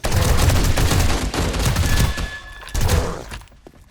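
NPC gunfire in 7 Days to Die, dense overlapping bursts of shots that are close and loud, easing briefly, then returning before fading out.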